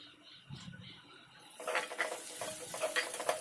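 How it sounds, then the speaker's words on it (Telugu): Spices with turmeric and asafoetida stirred and fried for tomato rice; after a quiet start, a steady sizzle rises with repeated close scraping and stirring strokes in the pan. "ఇవన్నీ వేసి బాగా కలుపుకొని ఫ్రై చేసుకోవాలి."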